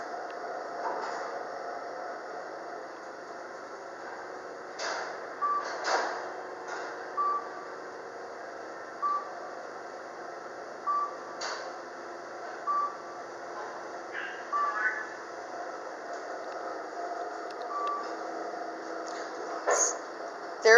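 A KONE EcoDisc traction elevator, installed in 2010, running at the Amway Center parking deck, with a steady low hum broken by short, evenly spaced beeps and a few soft clunks.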